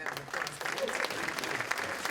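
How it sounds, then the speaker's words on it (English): Applause from a dinner audience at a political party gathering fills the room as steady, dense clapping throughout, with no break. "Give them a round of"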